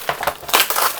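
Packaging from a JLC PCB order holding a circuit board and stencil is handled during unboxing, giving a short burst of close, crackly crinkling and rustling, loud and uneven over about a second.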